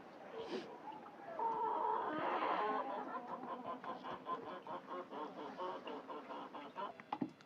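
Hens in a backyard coop cluck and murmur softly in a steady, close-up chatter, with one brief higher squawk near the end.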